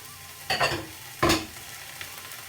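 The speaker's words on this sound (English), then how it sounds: "need to stir fry these for about 4 to 5 minutes" Onion, celery, courgette and red pepper stir fry in a pan on the hob, with a quiet sizzle broken by two loud bursts of tossing and scraping.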